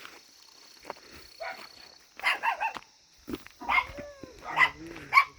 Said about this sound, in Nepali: 3 मुठीको कुकुरले पुरै धम्की दिइरहेछ